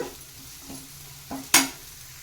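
Food frying in hot oil in a pan on a home stove, a soft continuous sizzle with a couple of stirring scrapes and a sharp, bright clatter near the end, no voices.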